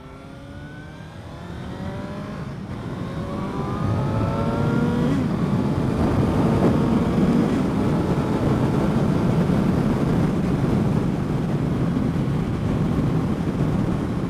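A 2015 Suzuki GSX-S750 motorcycle accelerates hard through the gears, its engine note climbing and dropping with each shift before settling into a loud, steady roar mixed with rushing wind noise.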